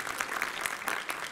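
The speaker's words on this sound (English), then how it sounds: "Love it when people applaud afterward." An audience applauds at a charity auction after an item sells, producing a steady, moderately distant patter of many hands with no voices over it.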